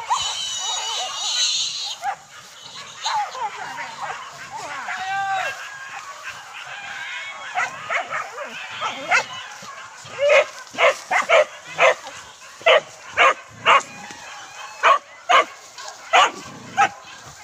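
A dog barks repeatedly outdoors, first mixed with voices and other animal calls, then in a series of sharp, loud, evenly spaced barks that dominate the end.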